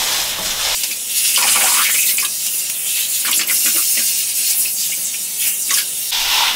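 Running water rinses dyed hair at home during an ombré colouring, a steady broadband spray with shifting splashes as the stream moves through the hair, close and fairly loud throughout.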